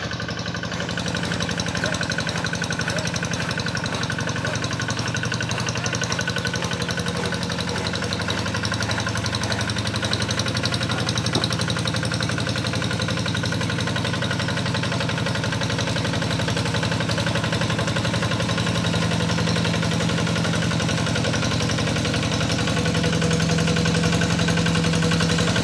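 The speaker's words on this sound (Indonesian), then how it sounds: "Traktor sawah." A rice-field plough tractor engine runs close by with a steady, loud chugging rumble that holds unbroken throughout.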